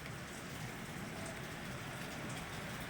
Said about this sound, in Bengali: দেখো, সেই কালকের থেকে বৃষ্টি শুরু হয়েছে